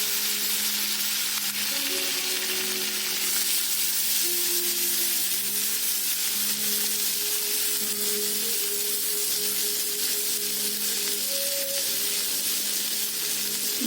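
Ginger garlic paste frying in a mix of oil and butter gives a steady, close sizzle and hiss that holds evenly without pause, with faint tones in the background and no talk.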